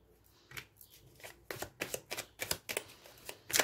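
Tarot cards being shuffled for a reading, heard as quiet, close, irregular papery flicks and taps that grow busier toward the end, with no talking.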